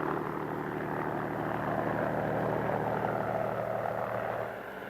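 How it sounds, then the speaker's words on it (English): A new model Army helicopter arriving with a slung load makes a loud, steady drone of rotor and engine that holds constant, then drops slightly in level right at the end, with no talk over it. "Here, a new model helicopter comes in with a load that runs right through the aircraft."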